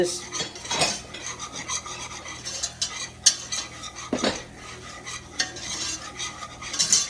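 A whisk scrapes and clinks against a hot pan over medium-high heat as flour is whisked for a broccoli cheddar noodle sauce, with irregular metallic strokes and occasional sharp taps, close and without speech.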